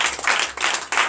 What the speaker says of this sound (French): Donnez l'acclamation à Yélo.